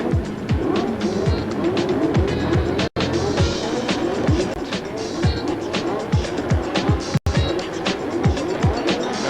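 Formula Pacific race cars rumble and whine through the 1991 Wellington street race circuit, engines loud and sustained with repeated rising passes and downshifts, under a constant crowd and track ambience.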